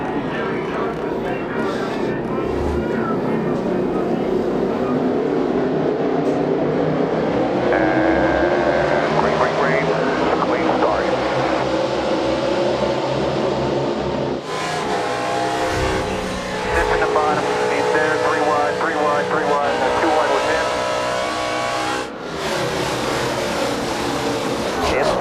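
NASCAR stock cars roar past at the 2011 Quaker State 400 as the field goes back to green, a dense, loud engine wail with rising and falling passes, under a race commentator's voice.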